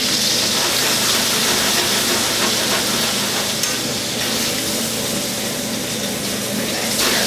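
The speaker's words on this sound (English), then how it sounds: "We're going to flip these over. We're just searing each side of these." Meat sears in an oiled pan with a loud, steady, close sizzle that holds without a break.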